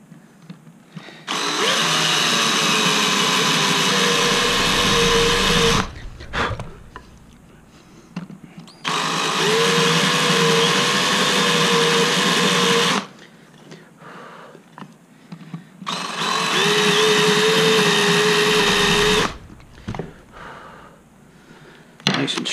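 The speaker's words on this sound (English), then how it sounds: "Then I'll use a countersink." A power drill with a countersink bit bores into wood for a long box turkey call, three sustained high-pitched whirring bursts of several seconds each, separated by short pauses with handling noise.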